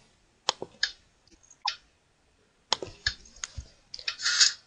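Buttons on a Minecraft 4-digit code lock clicked one after another in a video game, sharp separate clicks in two short bursts at an even pace, with no speech.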